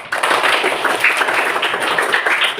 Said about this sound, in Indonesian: kita tepuk tangan dulu untuk Andri